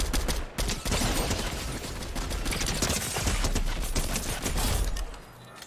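Dense, continuous gunfire from the MK rifle in the Fortnite video game, rapid overlapping shots roaring loud for about five seconds before cutting off, with no talking.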